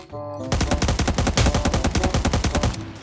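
Rapid automatic gunfire in the Cyber Hunter video game, fired from an enemy positioned above, rattling in a dense, steady burst of loud shots that runs for over two seconds after a brief quieter lead-in.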